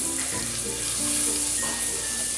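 Paste sizzles and crackles in a hot pan, a steady bright frying hiss with small pops and faint stirring.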